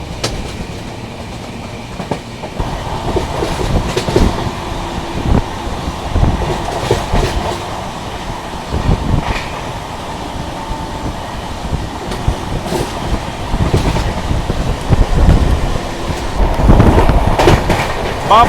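The West Coast Express passes close by, with loud rolling rumble and rhythmic clickety-clack of wheels over rail joints, swelling toward the end.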